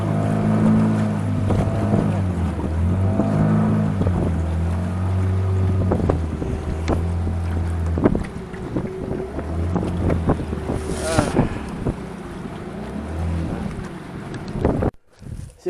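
Boat ride out to Ilhéu das Rolas off São Tomé, with a steady engine drone, water splashing and heavy wind buffeting the microphone, loud and continuous until a brief cutoff near the end.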